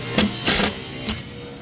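Drywall screws, 1.25 inch coarse thread, driven into plywood during a custom kitchen job, three short sharp bursts from a driver close by.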